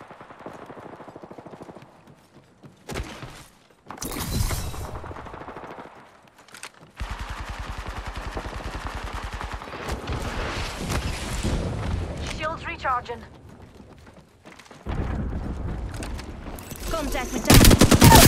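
Bursts of automatic gunfire and single shots in the battle royale game Apex Legends, loud and close, coming in several separate volleys across the stretch, with game voice callouts spoken over parts of it.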